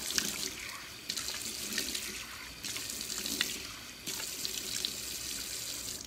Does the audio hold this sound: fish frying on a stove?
no